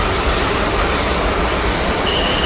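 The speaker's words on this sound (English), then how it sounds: "we've got trains making noises now." Loud, steady rumble of a passing train with rail clatter and a thin metallic squeal, continuous throughout, close by and drowning out any other sound.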